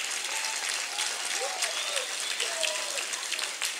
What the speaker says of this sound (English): Would you please give him another hand clap?